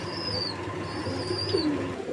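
Black Madrasi Golla pigeons coo softly in a low, steady murmur, with a couple of faint higher chirps from other birds drifting over a constant background hum.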